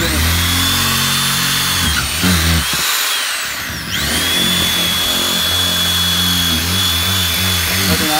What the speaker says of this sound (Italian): stiamo facendo l'ultimo pezzettino col trapano